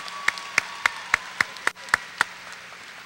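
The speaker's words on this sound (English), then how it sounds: "why don't we give everyone a round of applause once again" Sparse applause for student athletes at a school athletic signing day: about eight distinct, evenly spaced claps ring out over quiet room tone, then fade.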